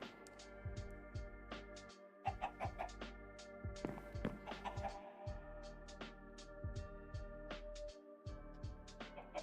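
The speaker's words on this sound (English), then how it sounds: "Don't ask why there's chickens down here" Chickens in a Minecraft-style game cluck in short, scattered bursts, several birds overlapping at irregular intervals, fairly faint with brief gaps of silence.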